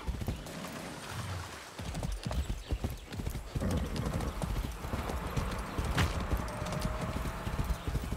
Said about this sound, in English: Oh wow, a whole slew of horses, look at that.